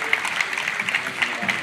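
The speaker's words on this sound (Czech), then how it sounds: "prosím potlesk" Audience at a folk song and dance festival in Tvrdonice claps steadily, a dense, moderately loud round of applause filling the whole short stretch.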